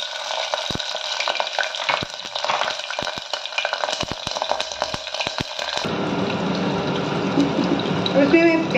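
Red chillies and whole spices dropped into hot oil, frying with a bright continuous sizzle that swells louder partway through, mixed with scattered stirring clinks.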